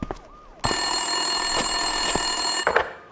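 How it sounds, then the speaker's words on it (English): In Max Payne 2, an office desk telephone rings with a steady electronic trill of about two seconds, near and fairly loud, with faint clicks around it and no voices. "Winterson's phone was ringing."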